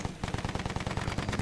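Rapid automatic gunfire in the Battlefield video game, a dense burst of loud, evenly spaced shots rattling close by for over a second without talk.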